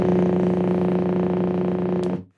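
A blend of movie projector motor hum and television picture tube buzz, the base layer of a Star Wars lightsaber sound: a steady, low electrical hum with a buzzy overtone droning evenly for about two seconds, then cutting off and decaying quickly.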